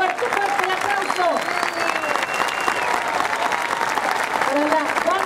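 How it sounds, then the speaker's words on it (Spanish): Loud, dense applause from an audience at a tenth-anniversary celebration with a military band. The clapping is sustained and close, mixed with crowd noise for the whole five seconds. "Fuerte, fuerte el aplauso."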